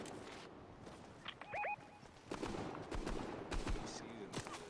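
Scattered gunfire from another player in a shooter video game, several faint distant shots at irregular intervals under background game noise and chatter.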